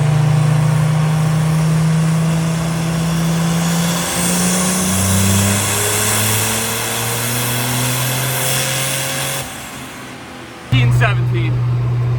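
A diesel truck on a dynamometer runs a fuel-only pull, engine note droning and climbing in pitch, then cutting off before a sharp burst as it fires back up loud; voices talk over the run.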